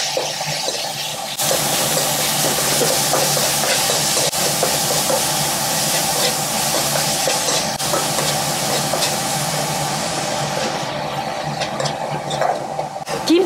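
Steady loud sizzling and hissing fills the clip as beef stir-fries in sesame oil in a hot frying pan, with faint clinks from utensils.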